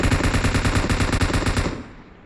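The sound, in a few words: gunfire in the video game Battlegrounds Mobile India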